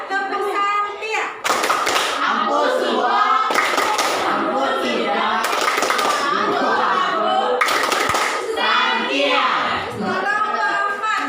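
A group of children does a rhythmic clapping chant, with loud bursts of patterned clapping and slapping between chanted and spoken lines, close and lively, and voices throughout.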